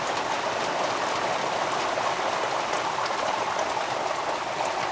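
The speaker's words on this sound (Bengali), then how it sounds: "প্রবল বর্ষণ বা বিশাল বৃষ্টি চলে এসছে" Heavy downpour in a Sundarbans village, a dense, even hiss of rain that holds steady throughout with no voices.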